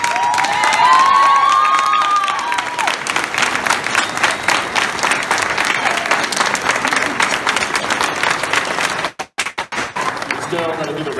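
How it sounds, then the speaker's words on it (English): A college campus audience claps and cheers for debate panelists, a loud dense wash of applause with shouts and whoops rising over it. The applause holds steady before a brief break near the end, with a voice calling out under the crowd. "Give our panelists a round of applause"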